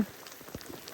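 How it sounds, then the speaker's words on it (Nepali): Hailstones fall during a trek, a quick dense patter of small hits spattering across the ground close by, with no voices. "गाई झन् असिना पऱ्यो असिना"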